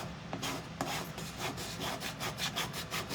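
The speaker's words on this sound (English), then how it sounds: "I'm just going to start scraping that paste off." A paste scraper drags steadily across a surface, lifting off transfer paste in a continuous, faint, close-up rasping scrape with slight rhythmic strokes and no talking.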